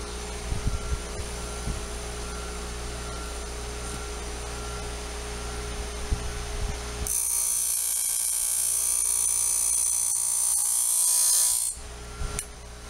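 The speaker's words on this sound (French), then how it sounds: "afin que ma meule vienne caresser doucement la face du goulet et viennent légèrement toucher la face de dégagement de la dent" A grinding wheel sharpens the teeth of a mobile band sawmill blade. A low hum gives way to a loud, bright, sustained grinding hiss that runs for several seconds before cutting off.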